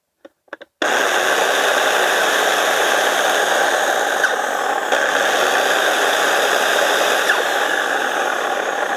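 A TOP CRAFT electric chainsaw with a slipping chain starts after a few clicks, then runs outdoors as a steady, loud motor whine and buzz that holds evenly throughout.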